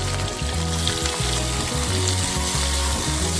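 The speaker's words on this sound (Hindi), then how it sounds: "हमें थोड़ा सा प्याज भूनना है, थोड़ा जैसे पिंक कलर का हो जाता है प्याज तब तक हम इसे भून लेंगे।" Long-sliced onion frying in hot oil spiced with cumin makes a loud, dense, continuous sizzle close by, without pauses or talk.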